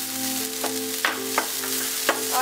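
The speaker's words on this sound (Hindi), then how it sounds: "प्याज को भूनने के बाद हम इसमें बारीक कटा हुआ शिमला मिर्च डाल देंगे" Finely chopped capsicum and onion frying in a pan over a medium flame, with a steady close sizzle and a few soft scraping stirs.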